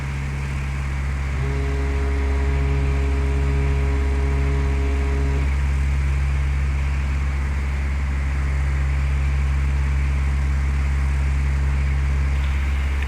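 Small training airplane in flight, descending on a glide slope as the flaps are set to 20: a steady loud engine and propeller drone throughout, with a brief whining mechanical tone from the flap motor partway through, and no talking.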